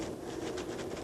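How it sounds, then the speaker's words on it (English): A passing train rumbles steadily outside a Brooklyn home kitchen, a continuous low roar with a faint clattering texture, heard from indoors at moderate distance with no talk over it. "The train's competing with me."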